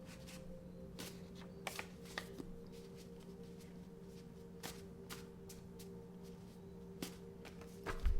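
A deck of cards shuffled repeatedly until some fall out, giving quiet riffling bursts and sharp flicks spaced irregularly over a faint steady hum, close and soft, with a louder clatter at the end.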